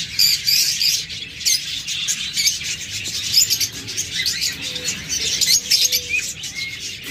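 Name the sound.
budgerigars and other caged birds chirping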